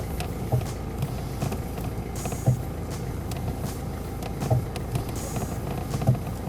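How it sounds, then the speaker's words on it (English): A Renault Clio 3 driving over a rough road with a steady rumble and a periodic clunking knock from the front suspension struts, repeating roughly every two seconds. "Take a listen to this strange noise from struts."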